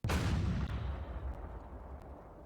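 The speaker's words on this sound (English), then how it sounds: "He simply keeps firing his gun." An M109A6 Paladin self-propelled artillery gun fires a single loud, booming shot in the Armored Warfare video game, the sharp blast followed by a long low rumbling decay.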